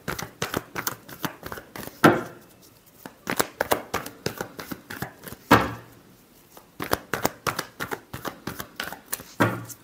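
A deck of tarot cards is shuffled by hand up close, in bursts of crisp riffling and snapping slaps separated by short pauses, loud and uneven in rhythm.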